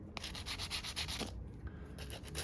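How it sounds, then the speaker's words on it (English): Steady back-and-forth rasping of sandpaper on a repaired rear axle holder from a Honda HRR216 lawn mower, close and moderately loud, with a brief pause partway through. "I'm gonna sand it up a little bit"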